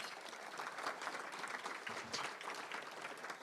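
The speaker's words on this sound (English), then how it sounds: "Let's give them a round of applause." Applause from a seated audience at a board meeting with a guest speaker, a fairly faint, steady patter of clapping that carries evenly through the whole stretch without voices.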